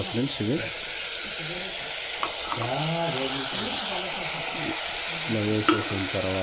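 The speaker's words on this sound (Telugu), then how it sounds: "మిరప్పొడి వేసిన తర్వాత మంచిగా ఇలా తిప్పుకోవాలి." Chicken curry with tomatoes and chili powder being stirred in a pan, a steady close sizzle and frying hiss with scraping stirs, while a person talks over it throughout.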